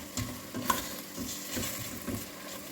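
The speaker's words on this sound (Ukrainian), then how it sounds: "От смажую ще буквально одну хвилинку, щоб чесночок придав свій" Soft sizzling of garlic frying in a pan with a few stirring scrapes, quiet and close, no voices.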